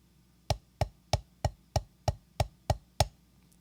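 Drumsticks strike a practice surface in crisp, evenly spaced single hits, nine sharp clicks over a few seconds, close and fairly quiet with no talk.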